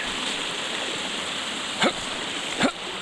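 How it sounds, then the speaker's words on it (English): A brook at a hiking trail crossing on Mt Abraham in Maine flows with a steady close rush of water, broken by two brief sharp splashes or yelps near the end. "we got another brook crossing"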